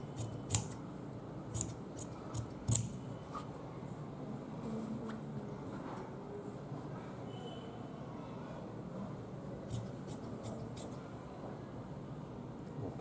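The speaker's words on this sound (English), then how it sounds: "you can cut the seam allowance less than 1 centimeter" Scissors trimming the seam allowance on a men's shirt, with a few crisp snips clustered near the start and another short run near the end over a faint steady hum.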